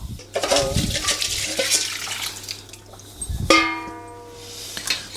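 Jerky marinade poured over meat in a home kitchen, a splashing liquid pour in bursts that swells near the end, with no talk.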